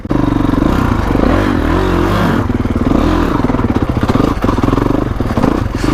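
A 2021 Kawasaki KX450X dirt bike hops over logs on a trail, its engine loud and close and revving unevenly, with clattering and scraping under the steady roar.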